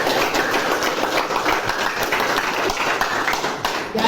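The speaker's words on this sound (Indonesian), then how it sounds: "Tepuk tangan dulu buat Aisyah." A classroom of students claps for a classmate named Aisyah, a loud, close, steady patter of many hands lasting about four seconds with a machine-like hum underneath.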